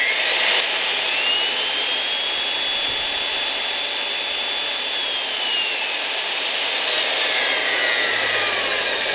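A Milwaukee 43736 magnetic drill press runs in reverse, giving a loud, continuous high-pitched motor whine that holds steady at close range, with a slight shift in pitch partway through.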